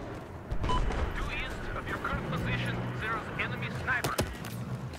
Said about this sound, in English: I'm actually taking fire from the top floor of this building